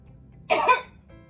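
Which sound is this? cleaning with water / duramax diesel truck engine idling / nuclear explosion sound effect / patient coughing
patient coughing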